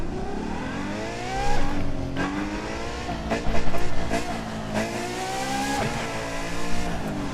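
A race car in The Crew 2 racing game revs hard and climbs through the gears, its engine pitch rising and dropping at each shift in a loud, continuous roar.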